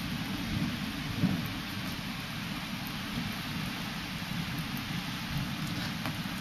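Thunderstorm heard from a patio, with steady rain pattering on surfaces and low rumbling thunder rolling underneath, continuous and fairly close, without voices.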